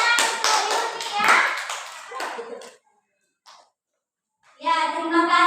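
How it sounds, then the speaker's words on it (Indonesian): Schoolchildren in a classroom clapping for a classmate, a loud burst of many hands for about two seconds that trails off into silence, then a voice speaks. "kasih tepuk tangan untuk Yuni ya"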